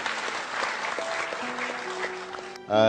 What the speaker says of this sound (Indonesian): Tepuk tangan semuanya, tepuk tangan.